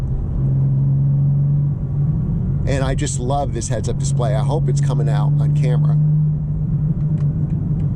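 Low, steady engine and road rumble inside a two-seat BMW M4 CSL driving over a bumpy surface, continuous throughout with someone talking over it in the middle.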